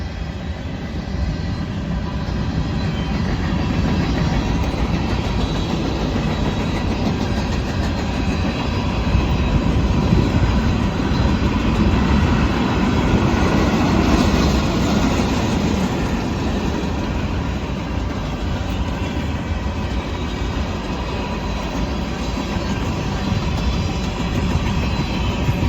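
A long Sierra Pacific freight train rolls steadily past a rail siding near Lovelock, Nevada, a continuous loud rumble of wheels and cars with faint clickety-clack that swells slightly mid-pass, with no talking over it.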